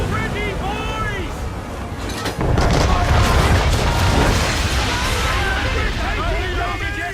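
Ship cannons firing during a naval battle in Assassin's Creed III: a heavy boom hits partway through, followed by a sustained rumbling roar over wind and sea noise, while crew voices shout commands throughout.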